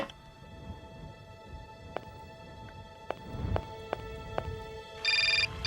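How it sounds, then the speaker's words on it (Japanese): A telephone rings in the Syberia video game, a few spaced electronic rings building to a bright, steady ring near the end, heard alone without talk. "また電話だよ。"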